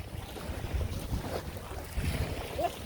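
Wind blows across the beach at Mactan in the Philippines, a steady low rush buffeting the microphone, with faint surf and voices in the background.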